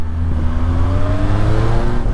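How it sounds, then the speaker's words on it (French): A 2009 Suzuki Bandit 1250 N motorcycle engine revs loud and close, a deep steady droning growl with rising harmonic whine as it pulls, continuous and strong throughout. "Oh là là, le moteur, j'adore ce couple, c'est génial."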